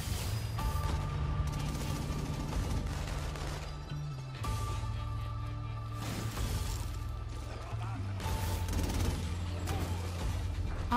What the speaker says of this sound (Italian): Hank, smetti di passarmi davanti mentre sparo.